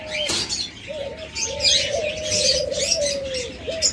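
Doves, likely diamond doves kept for sale, give soft repeated cooing calls close by, with light chirps and a brief flutter of wings, no voices.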